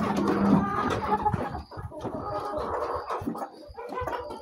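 Backyard chickens clucking close by while being fed vegetables before their main feed, a steady busy flock murmur with frequent overlapping clucks.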